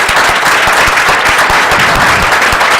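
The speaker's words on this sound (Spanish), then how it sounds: "Y quisiera pedirle a ustedes un aplauso tanto para Álvaro como para Mariana." An audience at an open lecture honoring a writer applauds steadily, a thick wash of many hands clapping close and loud for the whole short stretch, with no talking over it.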